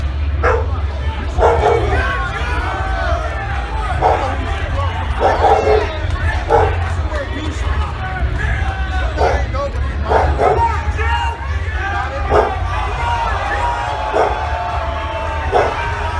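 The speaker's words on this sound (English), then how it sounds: "Bailey barking in the background, as you guys can hear" A dog barks repeatedly in the background, with sharp yaps scattered across the stretch while a low steady hum runs underneath and voices talk over it.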